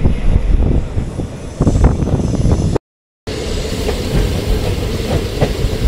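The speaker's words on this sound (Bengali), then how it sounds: "শিলিগুড়ি থেকে 42 কিলোমিটার পার করে আমাদের ট্রেন এই মুহূর্তে" A passenger train runs on the railway in the Dooars region of northern West Bengal, a loud continuous rumble and rattle of wheels with a brief dropout midway.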